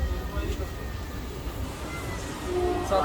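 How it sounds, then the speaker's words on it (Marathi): Low rumbling and rattling of a moving train carriage on a trip to Alibaug, steady and close, with faint voices and brief higher tones near the end. "चढलोय आम्ही ट्रेन मध्ये."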